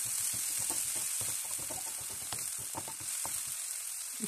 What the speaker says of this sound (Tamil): ஒரு பாதி வெங்காயம் சின்ன சின்னதாக கட் பண்ணி ஃப்ரை பண்ணிக்கிறேன்